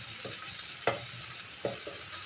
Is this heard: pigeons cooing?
no